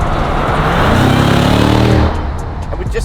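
A 2018 Jeep Grand Cherokee Trackhawk accelerating hard, a loud close engine roar climbing in pitch for about two seconds before the throttle lifts and the note drops away.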